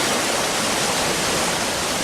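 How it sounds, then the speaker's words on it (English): Andes snowmelt and rainwater roar down a rainforest valley as a broad, continuous rushing torrent, loud and unbroken. "send over 200 billion metric tons of water thundering down the valleys"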